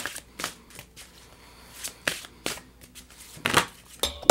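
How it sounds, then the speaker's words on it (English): Oversized tarot cards are shuffled by hand in several separate crisp bursts with short pauses between them, close and clear. "You guys, these cards are so big. I don't know if I can shuffle them."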